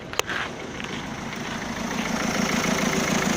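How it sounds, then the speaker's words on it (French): A car engine idles steadily after running for several minutes, a close, continuous low rumble with an even, regular pulse and a brief click at the start, no voices. "le moteur tourne, comme je vous dis, depuis 5-10 minutes"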